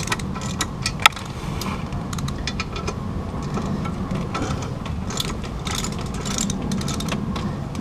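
Metallic ratcheting and clicking from tightening clutch bolts on a Mitsubishi 3000GT during clutch installation, a run of quick sharp ticks over a low mechanical hum, close and fairly loud, with no talking.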